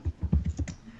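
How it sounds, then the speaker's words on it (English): Keys clatter on a computer keyboard in a quick, uneven run of about seven soft taps, close and moderately quiet. "Typing sounds."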